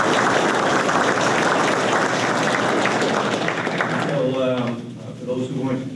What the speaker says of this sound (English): let's join my hand in applause